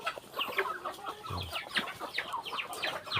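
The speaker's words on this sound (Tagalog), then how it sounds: "tingnan natin yung mga manok dito guys" Chickens on a citrus farm cluck in quick, busy bursts, several birds overlapping close by at a soft level with no voices.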